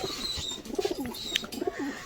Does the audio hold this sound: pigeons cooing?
yes